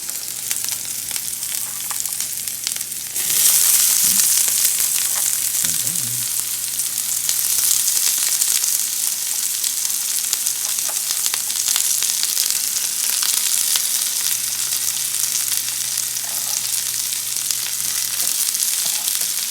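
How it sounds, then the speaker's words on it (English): Onions frying in a preheated skillet, a loud, steady sizzle that jumps up a few seconds in as they hit the pan and then holds on with faint stirring scrapes and no talk. "we're gonna go ahead and add our onions to the pan"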